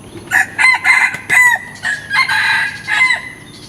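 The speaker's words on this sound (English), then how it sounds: "Cock-a-doodle-doo, went the rooster as he crowed in the early morning" A rooster crows loudly and close by, a series of bright, piercing cock-a-doodle-doo calls in quick succession.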